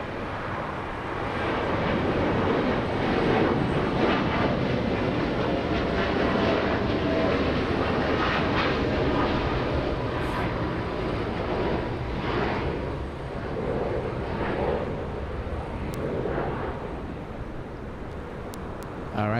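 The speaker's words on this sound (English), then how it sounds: "We have a 787 Dreamliner. Takeoff thrust sets already 180 knots. Rotate at 180." A Boeing 787 Dreamliner on its takeoff roll at Los Angeles International Airport, a loud, sustained broadband jet roar heard from the ground that swells and then eases slightly as the aircraft climbs away.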